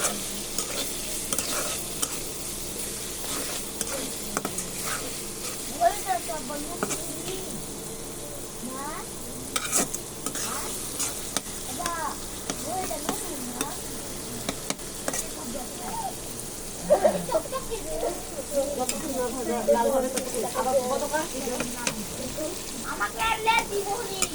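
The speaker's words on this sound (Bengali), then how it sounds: "আপনারা যতক্ষণ এই পেঁয়াজটা লাল না হয় আমরা ভেজে নেব।" Chopped onion frying in oil in a pan while a utensil stirs it, a steady sizzle with scraping and clinks throughout, as prep for a spiced pasta dish; a voice talks intermittently over the cooking.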